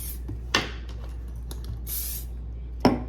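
Carbon Pro protector is sprayed onto a flipped-over bag in three separate close hissing bursts, the longest in the middle, with quiet handling noises between them.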